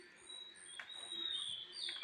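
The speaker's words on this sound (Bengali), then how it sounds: "পাখিদের কিচিরমিচির ডাক শুনতেও ভালো লাগছে।" Small birds chirp at dawn in a quiet morning setting, thin, high, faint twittering calls repeating over a hushed background.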